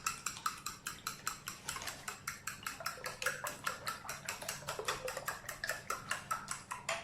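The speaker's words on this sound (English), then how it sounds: "Let's beat my eggs." Eggs are beaten in a bowl for a ciambellone cake, the whisk or fork clicking against the side in a quick, steady rhythm of sharp taps, close and clear.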